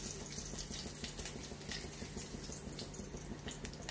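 Cumin seeds dropped into hot oil in a pan while cooking sabudana, a steady, soft, hissing sizzle with crackly texture, no talk.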